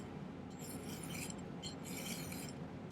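A hand file rasps across a metal cuff bracelet in close, short bursts of gritty strokes in an uneven rhythm, with no talking.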